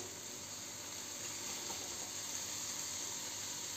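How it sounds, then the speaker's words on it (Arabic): Small pieces of chicken breast fry with onions in a pan, giving a steady, even sizzle and hiss throughout, fairly quiet and close with no talk. "هكذا نخليه يتقلى بلا ما نقلبه"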